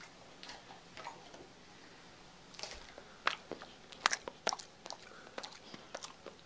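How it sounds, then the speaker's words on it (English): Soft, close chewing and crunching, irregular bites and clicks grouped mostly in the second half, faint and alone with no talk. "Stop chewing."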